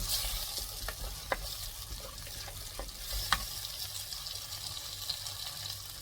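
Onions sautéing in a pan until brown for a chicken fry, a steady moderate sizzle with occasional clicks of a spatula stirring against the pan, close and without speech.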